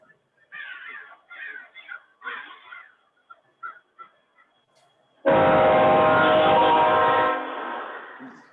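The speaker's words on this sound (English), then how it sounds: "Somebody has a train." A train sounds its horn loudly and steadily for about two seconds before fading, following a few sharp, crow-like calls in the background.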